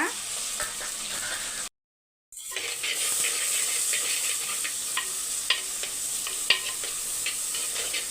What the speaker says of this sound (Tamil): இப்போ வந்து எண்ணெய் காஞ்சிருச்சு ஒரே ஒரு பிரிஞ்சி இலை இது கூட பச்சை மிளகா ஒரே ஒரு ஆனியன்